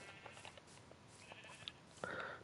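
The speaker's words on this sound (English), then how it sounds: "Come on, pink sheep." A Minecraft sheep bleats a few faint times over quiet game ambience, with one louder bleat near the end.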